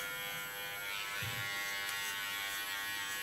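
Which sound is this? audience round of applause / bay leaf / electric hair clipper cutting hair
electric hair clipper cutting hair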